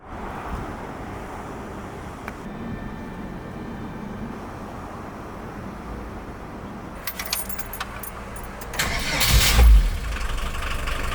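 Keys jangle near the start, then a van engine cranks and fires up for a test drive, settling into a rough idle that grows louder toward the end.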